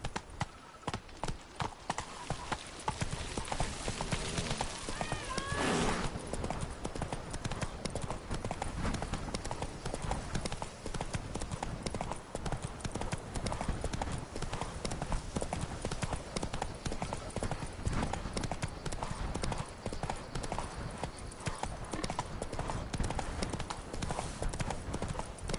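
A horse trots in The Witcher video game on PS4, its hooves clip-clopping in a steady, continuous rhythm over ambient game sound, with occasional voices from the game underneath.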